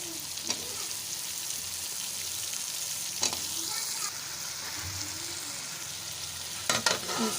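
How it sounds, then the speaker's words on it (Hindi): Taro (arbi) frying in masala in a pan, a steady soft sizzle with occasional louder scraping stirs, close up. "अब मैं इसमें डालूँगी अरबी और इसको थोड़ी देर के लिए हम अरबी को भूनेंगे"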